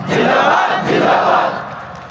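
A large crowd at a Ramadan religious sermon chants a slogan back in unison in response to the preacher, loud massed voices rising and falling in a couple of swells.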